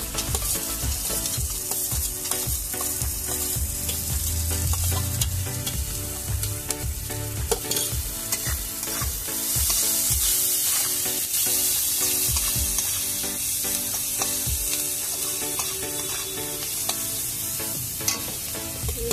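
Green chilies, turmeric and salt fry in hot oil in a pan for egg tadka. A loud, continuous, close sizzle with crackling spits runs throughout, broken by occasional stirring scrapes, and no talking.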